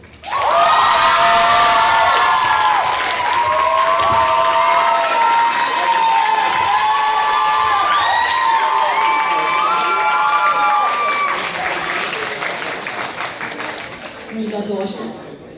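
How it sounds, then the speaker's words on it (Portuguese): A debate audience for a campus director election breaks into loud applause and cheering, many hands clapping with shouts and whoops layered on top, sustained and close before fading near the end as a voice begins. "Já estão aplaudindo antes de eu começar a falar?"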